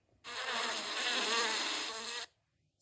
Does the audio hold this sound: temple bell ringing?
no